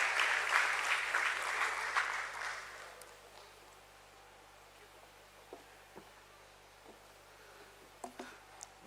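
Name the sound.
audience applause welcoming speaker on stage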